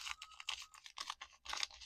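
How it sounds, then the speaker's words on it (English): Crunchy slime packed with glitter beads squished and pressed, giving a rapid series of close, crackly crunches and wet pops in irregular bursts with no talking. "watch this crunchy slime ASMR"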